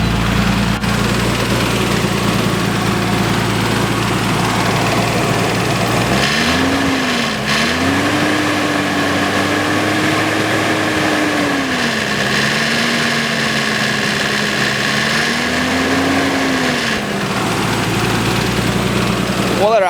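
A repaired car engine close by, revving up and settling into a steady idle for most of the stretch, with a wavering pitch as the revs drift; loud and continuous with no talk over it.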